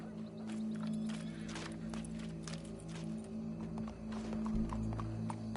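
Hooves clip-clop in an uneven walking rhythm over a low steady hum, fairly close, with no speech.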